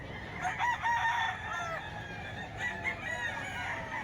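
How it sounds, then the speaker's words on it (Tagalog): Roosters crow repeatedly in a busy gamefowl market, several long drawn-out calls overlapping at mid distance, with clucking and background murmur. "Sobrang dami manok ngayon"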